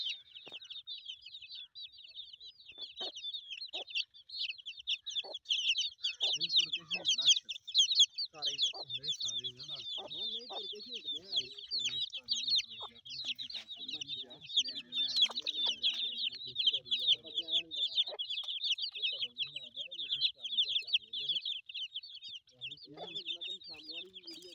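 Imported Aseel hens cluck in short, scattered calls over a dense, continuous high-pitched chirping that runs through the whole stretch, with faint talk now and then.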